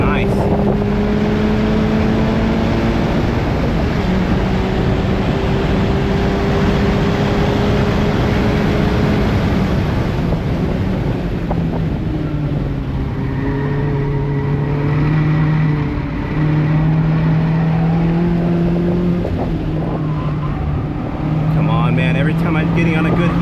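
A Mazda MX-5 ND with a track alignment, lapping a race track: a loud, continuous engine drone close up, its pitch rising and falling through throttle and gear changes for the whole stretch.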